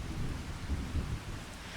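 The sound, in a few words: rain in the video game Farming Simulator 25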